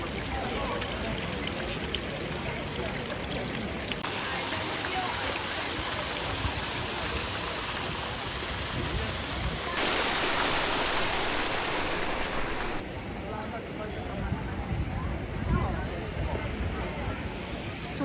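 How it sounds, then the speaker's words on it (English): Splashing fountains in Piazza Navona, Rome, a steady broadband wash of falling water filling the square, with crowd chatter and voices mixed underneath throughout. "Just the fountains around here, it's a big attraction too"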